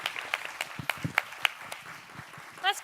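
Audience at a health equity panel event clapping for the panelists, a scattered burst of individual hand claps, moderately close, with a voice rising briefly near the end.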